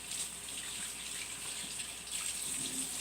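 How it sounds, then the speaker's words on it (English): A tap runs steadily while hands are washed under it, a continuous close rush of water with slight shifts in the splash and no talking. "But let me go ahead and wash my hands."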